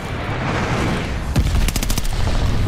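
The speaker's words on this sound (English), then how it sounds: "Friendly sending a glide bomb." Rapid gunfire bursts and heavy explosions in Call of Duty Vanguard Domination combat, a dense close barrage of shots with a booming blast, loud and continuous.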